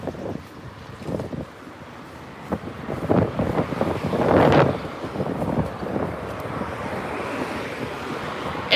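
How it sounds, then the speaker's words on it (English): Gusty wind rushes past during a morning walk outdoors in Denmark, rising to a loud buffeting swell midway before easing back to a steady blustery roar; no one speaks. "It is also really windy too."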